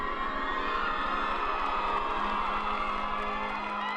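A talent show crowd cheers and whoops steadily with dancers on stage, a loud, dense roar of many voices filling the space with a low rhythmic beat underneath throughout.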